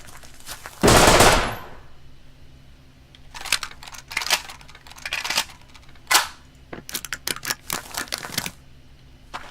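Gunfire in the survival game Rust: a loud sustained burst early on, then a run of shorter rapid bursts and single shots at varying distances, with no voices.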